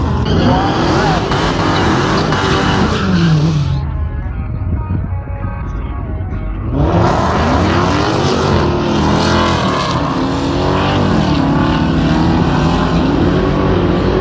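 Roaring drag race car engines, including a Dodge Hellcat, launch down the strip at Lone Star Mopar Fest 2017 and scream loudly, rising in pitch, fading briefly and then surging again as cars blast past.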